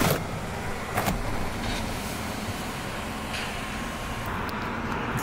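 Inside a 2025 Cadillac XT4 Sport, a power sunshade motor whirs steadily for several seconds, a smooth continuous hum with a couple of faint clicks at the start.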